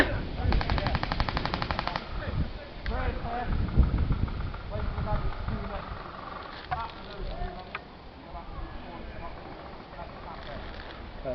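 Airsoft guns firing during an outdoor team game, with a rapid full-auto burst up front followed by scattered single shots and shorter volleys, while players' voices come and go.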